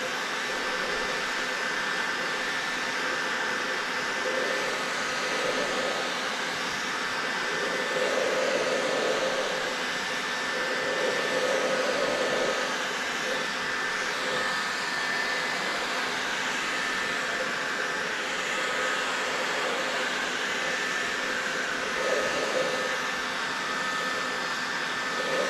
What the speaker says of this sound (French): je remonte un tout petit peu mon décapeur